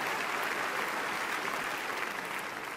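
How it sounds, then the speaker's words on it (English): Steady, dense audience applause fills an awards banquet hall at the NASCAR Sprint Cup Awards Banquet, a continuous wash of many hands clapping at even loudness with no voices standing out. "Please, big round of applause."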